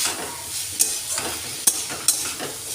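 Drumstick flowers and brinjal cook in a pan, a low continuous sizzle punctuated by three sharp metallic clicks of a spatula against the pan, close and alone.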